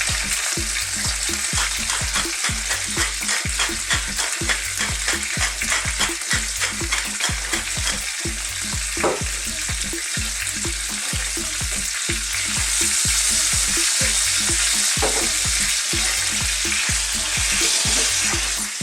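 Pork chops fry in a pan over moderate heat, a steady close sizzle with a fast regular crackling pulse that continues unbroken for nearly twenty seconds, with no one talking.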